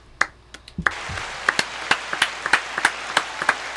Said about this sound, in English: Tom, let's get an applause.